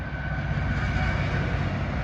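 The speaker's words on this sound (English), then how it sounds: "Oh my god, what's with all the trains?" A train rolling past near a railway crossing, a steady low rumble with faint rhythmic clacking and a high whine, constant and fairly distant, with no voices.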